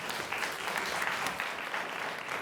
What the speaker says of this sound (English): How about a round of applause for both teams here?